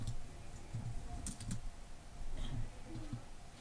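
Close, quiet clicks of computer keys being typed in short bursts of a few strokes, separated by brief pauses, in a quiet room.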